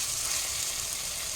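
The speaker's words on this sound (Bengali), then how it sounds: "এখন আমি চলে এসেছি পকোড়া ভাজতে, তেলটা গরম হয়ে গেছে।" Spiced chicken pakoras frying in hot oil, a steady close sizzle that holds at an even level throughout with no break.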